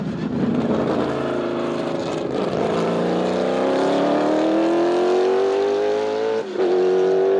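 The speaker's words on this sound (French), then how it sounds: "Le bruit que ça fait à 8000 tours, ces moteurs, on dirait un V8 de course." A Lexus 1UZ-FE V8 swapped into a Volvo 240 revs steadily upward in pitch to about 8000 rpm over several seconds, a continuous high-powered roar with a brief dip near the end.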